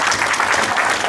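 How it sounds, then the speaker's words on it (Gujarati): A hall audience applauds to honor Dr. Ashraf Dabbawala, a dense, steady burst of clapping filling the room throughout. "પૂરા ગૌરવથી પૂરી તાળીઓથી એમને સન્માનીય કે હોલની દિવાલો ધ્રુજવા માંગે"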